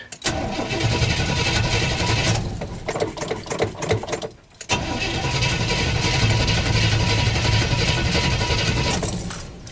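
An old Chevy engine that has sat unused is cranked over, a rapid mechanical churn that dies briefly, then catches and runs steadily near and loud before cutting off.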